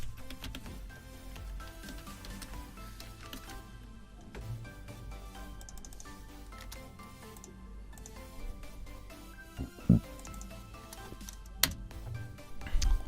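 Soft, irregular clicking of keys being typed on a computer keyboard, faint and close, with a couple of louder taps toward the end and no voices.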